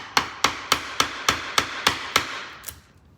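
Chiselling out an old screw from an old wooden chair: nine sharp, evenly spaced mallet strikes on the chisel, close and loud, each ringing briefly before the next, then a quieter final tap.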